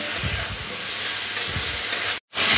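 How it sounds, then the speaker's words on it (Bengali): Spices are sautéed with vegetables in a pan for a papaya fish curry, producing a steady close sizzle with faint stirring scrapes, briefly cut to silence near the end. "মশলাটা কষে নিতে হবে সবজির সাথে"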